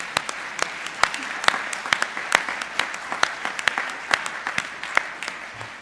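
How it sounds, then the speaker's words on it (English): A conference audience in Paris applauds the local organizers, dense clapping from many hands sustained steadily throughout at close range. "ask for a very warm round of applause for all the local organizers"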